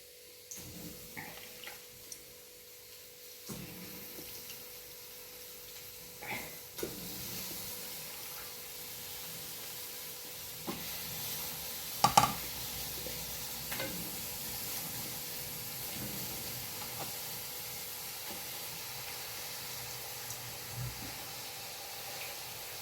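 Duck pieces in a curry pan with a steady sizzle throughout, a few scattered stirring knocks and clinks rising above it, one louder clatter near the middle, moderately quiet and without speech.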